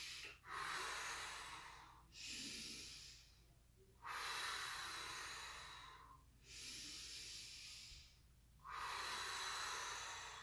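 Slow, deliberate breaths during a yoga exercise, a person inhaling and exhaling through about five long, airy cycles, close and alone with short pauses between them.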